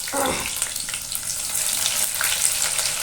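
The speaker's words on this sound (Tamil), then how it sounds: "சின்ன வெங்காயம் போட்டு வதக்கி விட்டுட்டு" Shallots sizzle and fry in hot oil as they are sautéed for a Kerala-style sardine (mathi) curry. A steady close crackle runs throughout with a few stirring scrapes, and no voices are heard.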